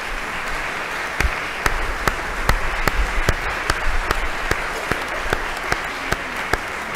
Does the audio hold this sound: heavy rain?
no